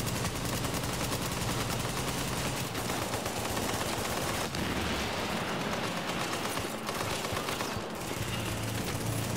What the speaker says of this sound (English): they got that turret there and the goddamn thing never runs out